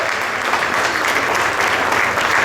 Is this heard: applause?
yes